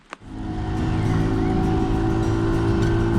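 A 125cc motorcycle engine drones steadily while riding on a solo road trip across France, a continuous near hum that swells in after a brief start and holds constant with wind noise.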